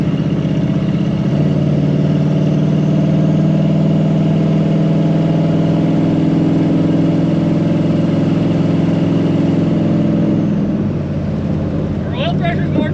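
A turbocharged small block Chevy engine holds a loud, steady droning rev for a long stretch, then eases off near the end as voices come in.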